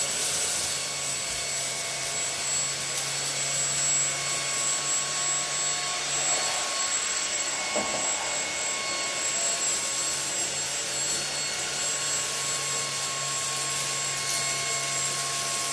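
A YOKEKON cordless stick vacuum cleaner running on its second speed setting: a steady, close whine and whoosh holds at a constant level throughout, with a faint low hum and a brief shift partway through.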